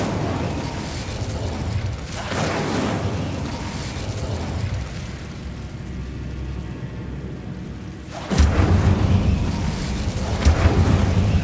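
Fire spells cast in Hogwarts Legacy burst out as rushing whooshes and booming blasts, a loud rumbling flare around two seconds and another heavier eruption near eight seconds over continuous game ambience.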